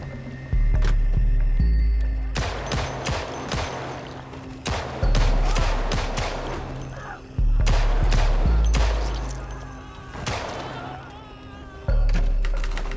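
Loud bursts of gunfire in the zombie survival video game Project Zomboid, heavy volleys of rapid shots repeating in clusters across the clip with short pauses between them.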